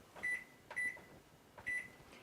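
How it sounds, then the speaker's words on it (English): A microwave oven sounds three short, clear beeps, evenly spaced and close by, over a faint steady hum. "we're going to just go over here and just put that in the microwave"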